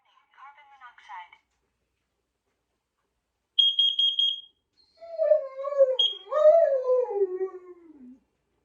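A carbon monoxide detector sounds a short burst of rapid electronic beeps in a remote Alaska cabin, amid other chirps and a long falling howl-like tone with gaps of silence between.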